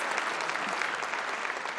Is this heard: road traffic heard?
no